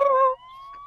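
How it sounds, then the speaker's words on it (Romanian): A siren wails, a two-tone electronic whine dropping to a steady held note, with a slightly synthetic, game-like quality and no talking. "Dragoș, uite, a venit poliția după noi, Dragoș"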